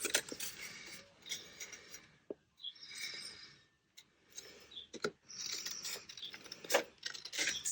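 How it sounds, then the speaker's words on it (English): Scissors cut a piece of card for a handmade scrapbook page pocket, making several quiet crisp snipping and rustling bursts separated by short pauses, close and faint. "Now it hangs over too much, so I'm going to cut that off."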